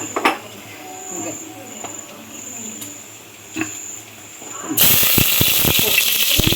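Ghee and dalda hit a hot biryani pot with a sudden loud, steady sizzle that takes over after a quieter stretch of faint clicks, a thin whine and brief talk.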